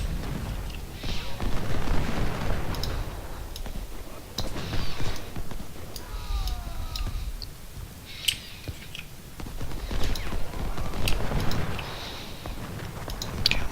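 Cannon fire in a war video game battle at a river crossing: deep booms roll out at intervals over a noisy rumbling battlefield, some distant, a few sharper reports standing out.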